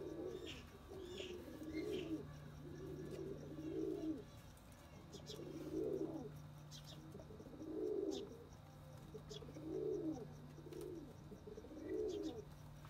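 Pigeons coo in a rooftop loft, a soft rhythmic series of throaty coos repeating roughly every two seconds, fairly faint, with a low steady hum and occasional small chirps behind.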